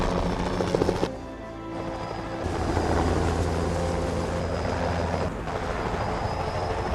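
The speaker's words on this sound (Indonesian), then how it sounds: "yaitu jemputan dengan helikopter" Helicopter arriving for an evacuation pickup in a forest in a film, a steady loud rotor and engine roar with a dense mechanical drone that shifts in intensity over several seconds, with no talk.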